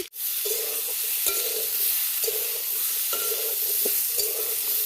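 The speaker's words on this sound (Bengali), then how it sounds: "আমগুলো ভালো করে ভেজে নেব।" Raw green mango pieces fry in a pan for a sweet-sour pickle, giving a steady, close sizzle broken by periodic scraping stirs of a spoon.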